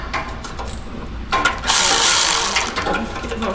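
A ratchet works on the exhaust system of a Porsche 911 991.1 Carrera, quick mechanical clicking followed by a louder burst of whirring power-tool noise up close, with no talk.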